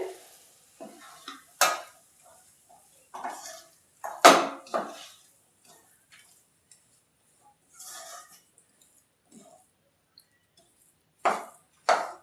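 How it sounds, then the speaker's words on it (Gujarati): Lapsi, a Gujarati sweet, stirred in a pot: scattered scraping and clinking strokes of a spoon against the pot come in short irregular bursts separated by quiet gaps, close and fairly soft. "બધું આપણે મિક્સ કરી લેશું અને આવી રીતે હલાવશું એટલે આપણે બધું લાપસી આપણી છૂટી પડી જશે એકદમ"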